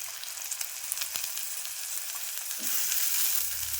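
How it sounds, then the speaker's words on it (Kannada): Chopped tomatoes frying in a pan with homemade ginger garlic paste, a steady close sizzle with light stirring throughout, growing slightly louder near the end, no talking. "ಈಗ ಇದಕ್ಕೆ ನಾನು ಟೊಮೆಟೊ ಹಣ್ಣು ಹಾಕೊಂಡು"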